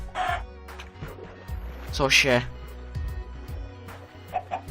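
Minecraft chicken clucking in short bursts within a blocky video game world, mixed with game sounds and heard under someone speaking.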